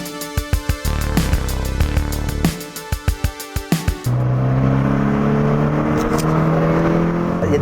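An old car's 1.9 litre engine revs in a rapid series of sharp blips, then settles into a loud, sustained, throaty roar close by.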